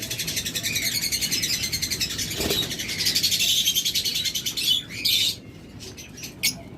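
A dense, continuous chorus of caged pet birds, such as lovebirds, budgerigars and cockatiels, chirping and twittering close by, with a few sharper calls standing out near the end.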